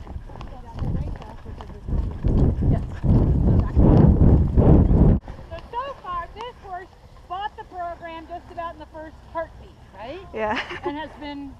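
Hooves thud rhythmically on the ground for several seconds, then fade as a person talks over quieter steps.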